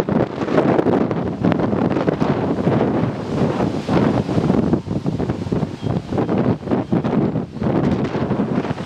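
Strong, gusty west wind at Port-Daniel, Gaspésie, roars steadily into the microphone, a dense buffeting rush that never lets up.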